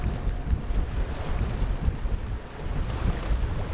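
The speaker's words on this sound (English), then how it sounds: "There's just no noise, other than the wind" Wind blowing across a sailboat off Waiheke Island, a continuous broadband rush with low buffeting gusts and sea wash beneath, steady and loud with no speech.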